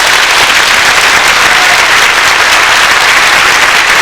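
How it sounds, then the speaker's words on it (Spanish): A loud, dense round of applause from a congregation at a Catholic religious retreat, a continuous wash of many hands clapping close by, with no talk over it. "¿Me ayudan a regalarle un fuerte aplauso al Rey de Reyes?"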